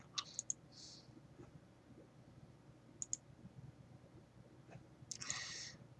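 Scattered computer mouse clicks sound while building in Lego Studio software, several quick close clicks in small bursts over a quiet room background, with a soft longer noise near the end.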